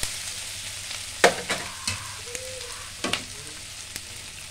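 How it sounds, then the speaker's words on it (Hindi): Onions frying in a pan for a creamy malai onion curry, with a steady sizzle broken by several sharp spoon scrapes and clinks against the pan, heard close up with no talking. "प्याज को हमें यहाँ पे भूनते 4-5 मिनट हो गया है"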